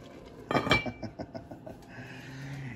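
A metal lid is set onto a cooking pot of simmering Filipino dinengdeng, a sharp clanging clatter followed by a few light rattling taps as it settles, then a quiet hiss of steam and simmering.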